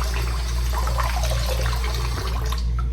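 Tap water runs steadily from a faucet into a sink while a face is being wetted before cleansing, a close, continuous splashing rush with no talking.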